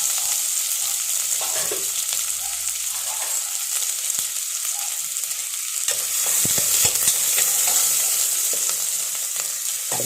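Sliced onion and coconut pieces fry in a pan with a bright, constant sizzle and occasional scrapes of a stirring spoon, close and steady throughout.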